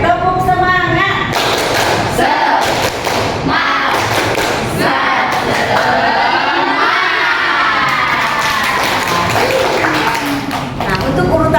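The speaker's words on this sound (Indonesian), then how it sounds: "Oke, tepuk semangat." A school class bursts into a tepuk semangat clapping chant, loud rhythmic thuds of hands under a crowd of young voices shouting and cheering together, continuous and close.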